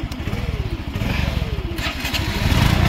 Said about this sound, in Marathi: परत गण्या होते की नाही स्टार्ट आज